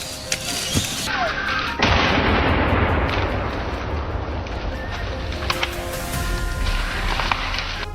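A single sharp gunshot cracks out during a wild boar hunt on a rugged cliffside, followed by a sustained rough roar of noise and a few scattered knocks.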